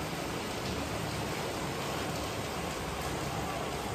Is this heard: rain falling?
yes